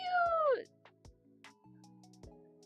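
A cat meows once, a clear, close, falling cry that is loud at the start, followed by quieter, softer sounds in an otherwise calm indoor space.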